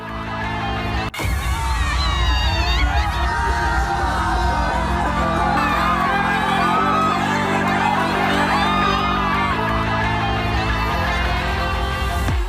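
A large crowd yells and cheers loudly and continuously at a BJP political rally in West Bengal, with shouts and whoops rising from a dense mass of people.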